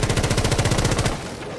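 Rapid automatic gunfire from Rainbow Six Siege rattles loudly for about a second, then cuts to a quieter tail.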